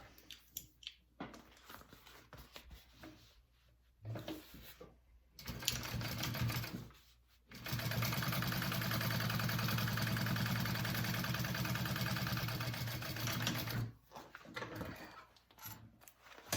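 A sewing machine top stitches a backpack, running in short stuttering bursts and then one long steady whirring stretch of several seconds before stopping and restarting in brief spurts.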